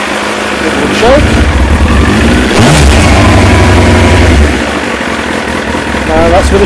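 A Kawasaki ZX9R four-cylinder motorcycle with freshly cleaned carburettors idles on choke, a loud, steady, close-up rumble that runs continuously throughout with slight shifts in pitch.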